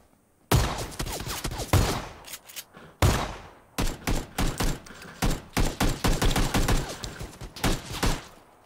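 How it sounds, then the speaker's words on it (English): Sharp gun bursts crack out in the video game PUBG: a couple of isolated loud shots, then rapid strings of rounds firing in quick rhythmic succession, close and punchy against near silence. "Put a gun burst into him."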